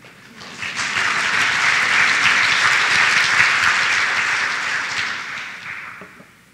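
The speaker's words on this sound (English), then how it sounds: "you can clap that if you want" Conference keynote audience clapping, a loud, full burst of applause that swells quickly, holds steady for several seconds, then tapers off.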